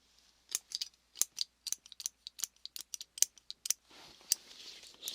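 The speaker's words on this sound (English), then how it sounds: "So we're going to take a little snips." Close scissors snipping hair in a quiet ASMR setting, a rapid series of crisp, separate snips in short bursts, followed by a soft brushing rustle near the end.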